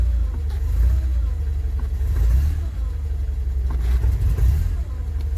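Car engine running rich with the choke pushed off, a steady low rumble that surges and sags unevenly as it struggles, close and fairly loud, with no voices over it.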